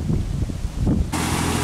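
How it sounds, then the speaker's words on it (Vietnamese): Strong north wind roars outdoors across farm fields, pressing on the microphone in a continuous, loud, rushing buffet with gusts that rise and swell. "Gió quá nghe ào ào"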